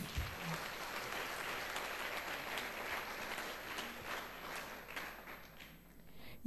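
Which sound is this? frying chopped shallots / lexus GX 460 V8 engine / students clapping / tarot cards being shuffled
students clapping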